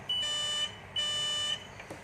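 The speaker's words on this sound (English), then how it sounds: "make sure that you select to the buzzer and make sure your buzzer have sound" A multimeter's continuity buzzer sounds twice in a row, each beep a clear, high electronic tone lasting about half a second, close and fairly quiet.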